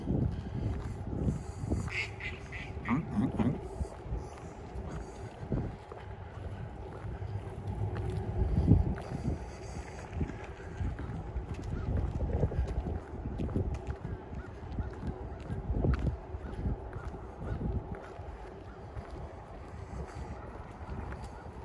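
Ducks and geese quack and honk in scattered bursts amid outdoor wind noise by a lake in Regina, fairly distant and soft.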